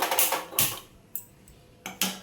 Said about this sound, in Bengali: এবার আমি একটা গ্যাসটা জ্বেলে দিয়ে একটা ফ্রাই প্যান বসিয়ে দেবো